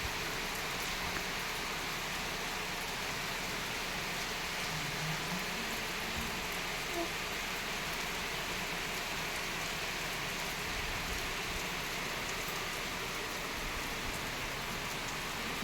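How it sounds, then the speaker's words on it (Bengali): Heavy rain falls outdoors in an even, unbroken hiss that holds at a fairly soft level throughout, with no talking. "ভালো জোরে বৃষ্টি পড়ছে।"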